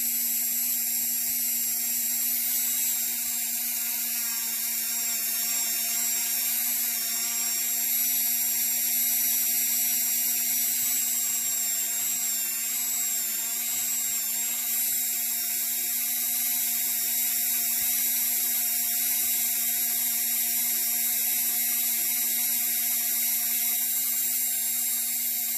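A Dremel rotary tool polishes a polymer clay piece with a steady, high-pitched whine that holds constant and close throughout, with no talking.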